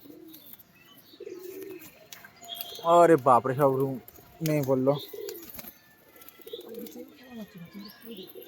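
Pigeons coo in a few rounded, throaty bursts in the middle, with people talking quietly before and after the calls.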